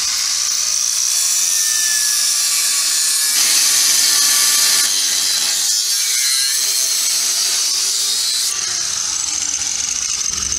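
A power tool cuts through the steel front cab mount of a Chevrolet S10 frame. Its loud, continuous high-pitched grinding whine shifts pitch as the blade bites, with no voices.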